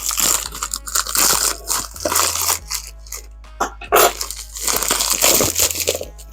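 Plastic bag wrapped around a fragrance bottle in bubble wrap is cut open, giving loud, dense crinkling and crunching close by, with bursts of rustle and brief pauses.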